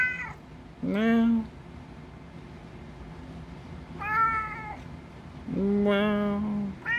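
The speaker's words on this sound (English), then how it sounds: "What's up with that meow? You just meowing?" A cat meows several times, drawn-out and close, with a pause between calls; a quiet voice murmurs in the background.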